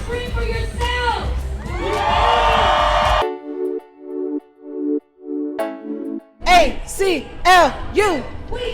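At the 2023 LA Pride event, a big outdoor crowd screams and whoops loudly for several seconds, drops away under a tonal musical pattern, then erupts again while an amplified voice speaks over it.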